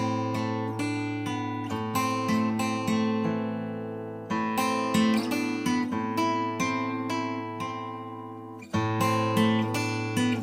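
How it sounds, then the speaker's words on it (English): Taylor 514E acoustic guitar playing a main theme fingerstyle, ringing plucked notes and sustained bass tones with several fresh attacks, close and clear with no talking. "Beautiful sounding acoustic guitar."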